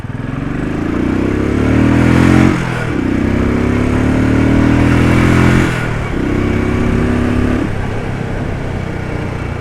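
A Royal Enfield Desert Storm motorcycle out on a test ride, its engine droning steadily up close with three rising rev sweeps as the rider shifts through gears, running continuously with no talk.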